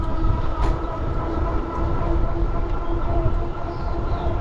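Steady low rumble of a passenger train in motion, heard from inside the car, with continuous rattling and a faint hum of voices beneath.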